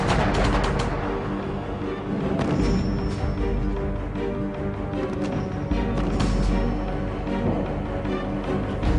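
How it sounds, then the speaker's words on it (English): Artillery bombardment of enemy positions in the 1982 Falklands War, a continuous loud barrage of booms and rapid gunfire blending into a dense roar with no pauses. "They hammered the remaining enemy positions in a final all-out bombardment."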